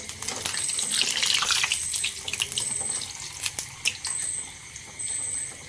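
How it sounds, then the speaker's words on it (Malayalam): Neyyappam, a sweet rice fritter, fries in hot oil while oil is spooned over the top. It gives a steady, close, bright sizzling hiss that runs throughout, with a few thin tonal whines and small pops. "ഞാൻ ഇങ്ങനെ എണ്ണ കുറേശ്ശെ മുകളിൽ മുകളിൽ ഒഴിച്ചു കൊടുക്കണം"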